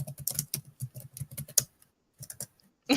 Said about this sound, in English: Georgia typing noises.